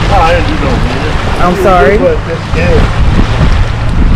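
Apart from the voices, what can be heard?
wind blowing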